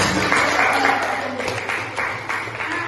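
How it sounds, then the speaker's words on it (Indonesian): A class of students breaks into applause in a classroom, the clapping moderately loud and continuous, with voices talking over it. "Tepuk tangan untuk"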